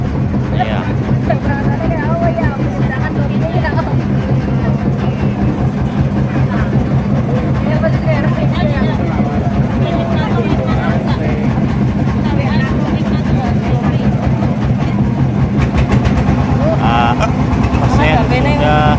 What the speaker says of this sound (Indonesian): Kapal sudah pelan-pelan mulai berangkat.